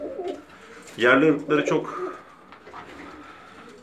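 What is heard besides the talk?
Bulgarian pigeons cooing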